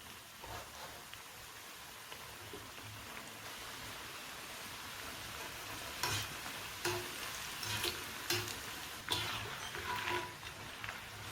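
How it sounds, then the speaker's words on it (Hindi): Namak pare, a savory fried flour snack, sizzle steadily in hot oil, a dense crackling hiss throughout with sharper bursts of bubbling and occasional stirring clinks, fairly close and alone. "इसी तरह से हम और नमक पारे तेल में डालकर सेक लेंगे।"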